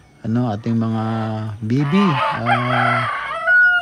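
A rooster crows loudly and close, with chickens clucking around it and a voice speaking over the birds.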